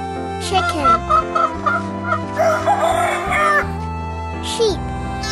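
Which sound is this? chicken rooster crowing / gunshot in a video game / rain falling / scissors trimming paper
chicken rooster crowing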